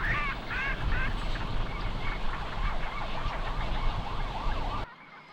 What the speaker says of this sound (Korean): 대숲으로 날아드는 외가리와 백로들